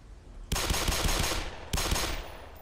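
Two close, loud bursts of rapid pistol fire in Black Mesa, each a quick volley of cracks that rings out and decays, the second burst arriving about a second after the first.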